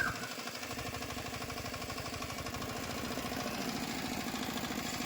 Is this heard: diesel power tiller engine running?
yes